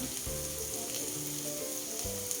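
Chana masala sizzles and fries in a pan just after homemade jaggery-sweetened tomato sauce goes in, a steady crackling hiss with a few low scraping stirs, no voice.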